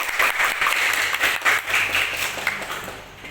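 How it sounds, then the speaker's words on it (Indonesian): Students in an Indonesian classroom give a round of applause for two classmates, steady dense clapping sustained for a few seconds before tapering off slightly at the end. "Kita berikan dulu aplaus untuk Nela dan Farid."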